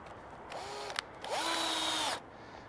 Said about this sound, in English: I'm going to tack a piece up with some screws